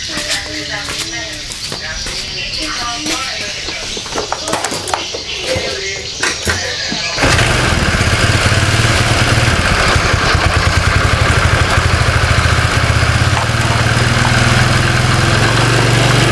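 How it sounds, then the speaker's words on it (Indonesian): A Honda Vario scooter engine with unstable revs catches partway through and settles into a loud, steady idle with a rough, rapid chugging that runs to the end. "saya nyalakan dulu mesinnya"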